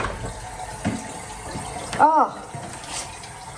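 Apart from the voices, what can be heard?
toilet cistern water running after flush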